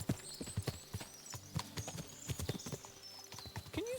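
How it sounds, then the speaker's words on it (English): Horses' hooves clip-clop in an irregular, overlapping patter, as several horses move together in Kingdom Come: Deliverance 2, with a brief whinny near the end, moderately close and not loud. "What a lot of horses!"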